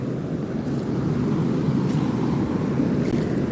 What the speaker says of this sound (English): The waves, I mean, you can hear them out there.